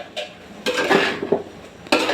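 A spoon scrapes and clinks against a cooking pot while food is stirred, several short metallic knocks and scrapes in an irregular rhythm, close and fairly loud.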